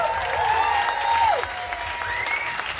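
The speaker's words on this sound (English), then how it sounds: "a huge round of applause for all the staff here at Assembly" A thick wash of audience applause at an Edinburgh comedy night in 2011, honoring the venue staff, steady and fairly loud, with a high whistle or cheer rising and falling above the clapping.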